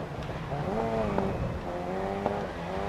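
In the GRID Legends racing game, a car brakes hard: engine tones sweep and drop while tyres squeal, with sharp ticks in a continuous, fairly loud game mix.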